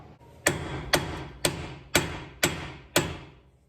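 A hammer strikes a 1/4 inch tool set against a BMW E36 rear brake part, six sharp metallic blows at an even half-second rhythm, close and loud, each ringing out briefly with no talk.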